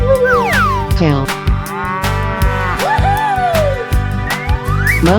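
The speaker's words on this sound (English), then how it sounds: "cow," A cartoonish cow moos loudly in a 3D animal sliding video game, with drawn-out bellowing calls over busy game music, thumping beats and bright sound effects.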